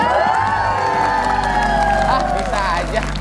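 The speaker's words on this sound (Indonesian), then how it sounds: "kasih tepuk tangan yang paling meriah dong" A studio audience at a TV game show applauds and cheers loudly, a thick wash of clapping and shouting that runs the whole time under a host's voice.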